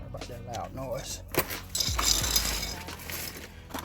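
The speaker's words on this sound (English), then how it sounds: "Moving tools around so I can get over here." Metal tools clink and clatter as they are shuffled around under a 2003 Chevy Suburban, with a brief muffled voice at the start, then a scraping, rattling burst of handling midway.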